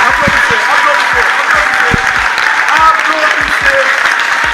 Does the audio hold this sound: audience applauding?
yes